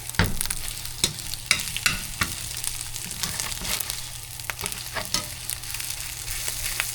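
An egg fries in a pan with a steady close crackling sizzle, punctuated by several sharp clicks and taps of a utensil against the pan, and no voices.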